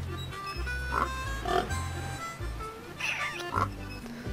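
Pigs in the farming game Meine kleine Farm 4 grunt and oink in several short bursts at moderate volume over a low background hum of game ambience.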